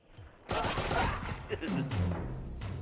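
Bursts of gunfire cutting down characters in the video game Oddworld: Abe's Exoddus, a loud sudden volley that rattles on for about two seconds, with game voices and effects over it.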